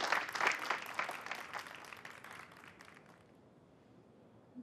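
Applause from an audience welcoming a male guest back on a stage show, a burst of clapping that fades away over a few seconds into near silence.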